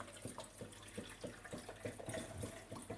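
Salt water is poured into a water ionizer machine, a quiet continuous trickling and splashing with small irregular drips and gurgles, close but low in level, no speech.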